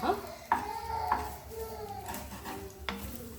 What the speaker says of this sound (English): let's mix up the rice a bit